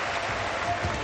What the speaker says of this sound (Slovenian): Evo čujete ovaj aplauz i za jedni i za druge.